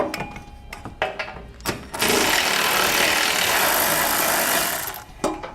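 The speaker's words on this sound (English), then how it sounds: "We need to remove the two 8mm bolts that hold our heat shield in place on our frame rail." A power tool runs steadily for about three seconds, loosening the 8mm heat shield bolts on the frame rail of a 2013 Ford Edge, with a few short knocks and clicks before and after.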